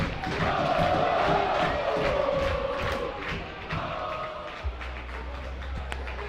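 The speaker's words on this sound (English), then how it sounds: "the crowd's making the most of the moment right now" Spectators at a fraternity ice hockey tournament cheer and shout in a loud swell that gradually settles into a lower murmur, with a couple of sharp knocks toward the end.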